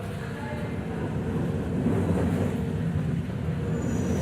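Rumbling rolling noise of a subway train in the World of Subways video game, a steady low rattle that swells slightly midway, moderately loud and continuous.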